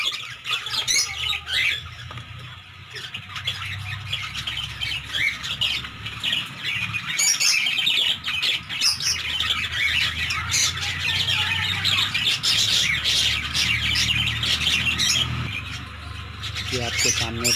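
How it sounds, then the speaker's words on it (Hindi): A colony of budgerigars, Australian parakeets, fills the air with dense, constant squawking and chirping, loud and close, while someone talks over the chatter. "ये आपके सामने बजीस कॉलोनी"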